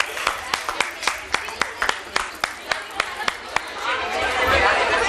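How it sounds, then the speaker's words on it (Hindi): A studio audience at a Ramzan iftar television show claps in a string of sharp, evenly spaced claps, then a wash of crowd noise and chatter builds underneath as the clapping fades. "ऊपर दे दे तालियां।"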